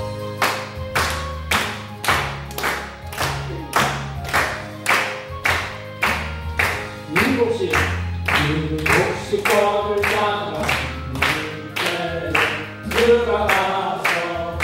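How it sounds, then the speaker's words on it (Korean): A church congregation at a Korean Sunday service claps in steady, even beats while singing a hymn together, the sharp rhythmic claps close and prominent throughout. "박수 치면서"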